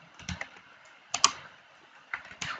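Keys tapped on a computer keyboard while entering an ARIMA command, close and fairly soft, in three short bursts of a few keystrokes each separated by brief pauses, with no voices.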